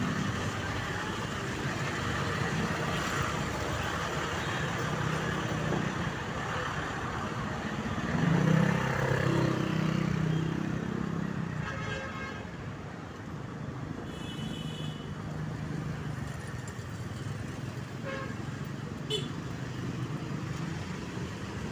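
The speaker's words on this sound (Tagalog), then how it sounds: "puro traffic po, inaabot dito." Heavy street traffic in Manila rumbles on as a continuous dense roar of car and motorcycle engines. A few passing vehicles swell briefly above the steady din.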